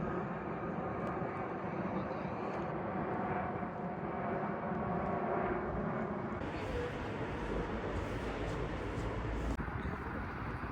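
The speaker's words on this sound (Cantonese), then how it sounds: "係咁見到啲私人飛機咁樣飛過。" Private jets fly past over a wealthy, cold but sunny town, a continuous broad engine roar that stays steady and fairly loud throughout.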